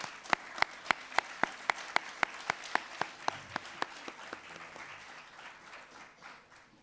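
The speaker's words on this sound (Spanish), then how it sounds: "si los recibimos con un aplauso y ya pueden empezar" Audience applause at a conference session on good-treatment practices, heard as a fairly even, rhythmic run of sharp claps that thins out and fades after about four seconds.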